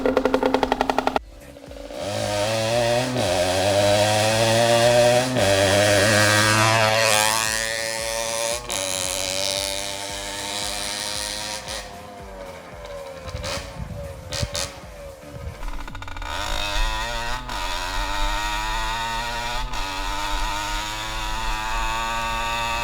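A Derbi Xtrem moped with its exhaust cartridge removed revs hard while being ridden, its two-stroke engine rising and falling in pitch through repeated throttle blips and gear changes, loud and close for the whole stretch.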